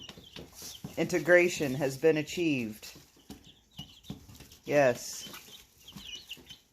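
Chickens cluck and squawk in a flurry of short, tonal calls, fairly faint and close by, while a person speaks briefly over them.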